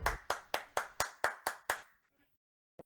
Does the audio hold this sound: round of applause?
yes